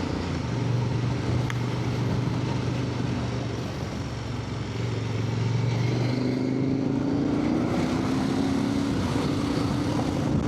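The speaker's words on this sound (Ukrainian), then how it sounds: "А тепер я скину передачу вниз." A motorcycle engine drones steadily and loudly, its pitch holding level, then dropping and climbing again as gears are changed during a rev-matching downshift, with no voices over it.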